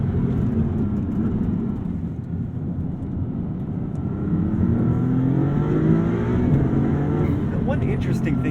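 Heard from inside the cabin, a 2022 Maserati MC20's turbocharged engine accelerates with a loud, steady low roar that climbs gradually in pitch while a voice talks over it.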